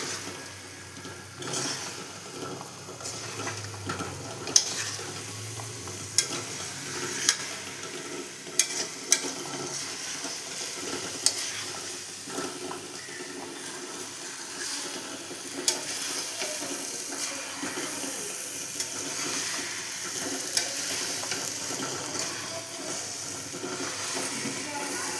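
Rice is stirred into chicken pulao gravy in a pan over a raised gas flame, a steady scraping and sizzling with occasional sharper clinks of the spoon against the pan, close and continuous.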